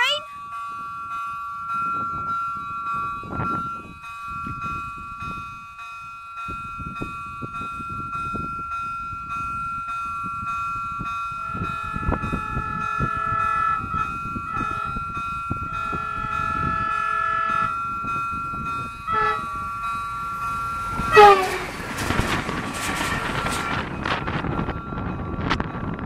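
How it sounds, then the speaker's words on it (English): A train passes a level crossing near Orihuela, Spain, with a steady crossing bell ringing at first and the rumble and clatter of the train building to a loud rush near the end, while people talk and shout nearby outdoors. "Here comes the train!"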